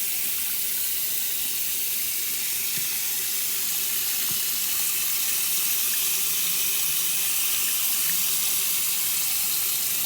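Tap water pours steadily into a sink while a makeup brush is rinsed under it, a continuous bright hiss of running water lasting throughout with no talking.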